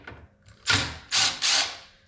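Screws being backed out of a Harley-Davidson Road Glide license plate bracket with a ratcheting tool, three quick whirring bursts close up separated by short pauses.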